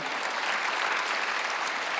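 A church congregation at a Sunday worship service claps together, a dense, even wash of many hands at moderate loudness, sustained without pause and with no voices on top.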